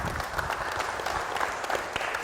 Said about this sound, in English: let's give Steve a round of applause real quick